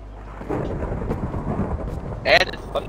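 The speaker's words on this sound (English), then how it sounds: "And it's thunder." Thunder in the game Minecraft: a low rumbling roll with rain hiss beneath, followed by a sharper crackling burst near the end, fairly loud and with no talk over it.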